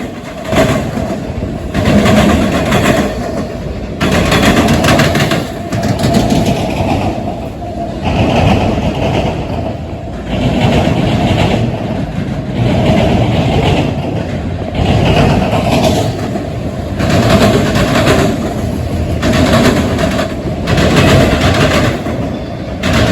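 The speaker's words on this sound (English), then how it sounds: "Q217 was equipped with a mid-train DPU, a CSX ET44AH pushing in the middle" A CSX freight train, Q217, rolls past with a mid-train ET44AH DPU locomotive pushing. A loud, sustained rumble and clatter of rail cars runs throughout, with steady rhythmic pulses of wheels over the track.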